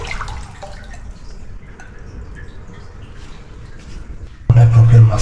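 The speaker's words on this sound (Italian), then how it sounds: "Sto camminando nell'acqua ghiacciata, molto fredda, scalzo" Barefoot feet wading through icy water in an underground passage, giving soft sloshing and dripping splashes with a louder slosh near the end, while someone talks over them.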